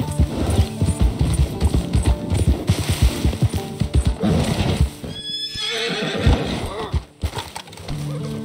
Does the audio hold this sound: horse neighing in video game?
yes